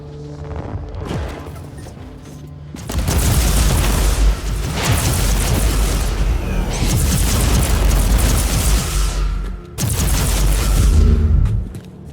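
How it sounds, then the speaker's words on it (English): Mortar artillery fire in the Warhammer 40K: Inquisitor-Martyr video game, loud rumbling blasts and crackling explosions in two long sustained bursts and a shorter one, with brief quieter gaps between them. "their mortars attack the Imperial fort with artillery fire"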